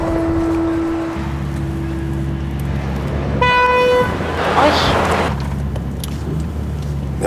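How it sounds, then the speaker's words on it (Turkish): A car horn sounds in a single sustained honk of about a second and a half, loud and close, over steady traffic rumble with people talking nearby. "Ne basıyorsun kornaya ya?"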